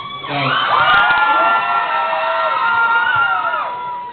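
An audience at a spoken-word poetry event cheers, whoops and shouts loudly, with high excited voices rising over a sustained roar of crowd noise.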